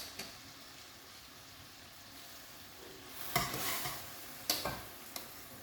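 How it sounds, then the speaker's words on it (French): Pasta and lardons cook over a fairly high flame in a pan with a faint, low sizzle, broken by a few sharp clatters and scraping stirs near the end. "on va continuer de les cuire avec les lardons tout simplement"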